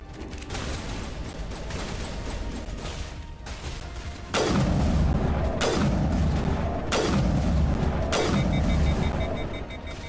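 Heavy, booming shots from a gun in the video game Mass Effect, four or five spaced blasts with long ringing tails over a steady ambient bed of game sound.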